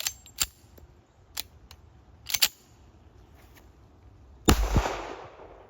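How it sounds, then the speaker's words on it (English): A WWII 1943 Colt 1911A1 pistol fires several sharp, distant cracks spaced irregularly, with one louder, fuller shot near the end followed by a brief echoing tail; no talking. "to be able to shoot it and actually run through some ammo."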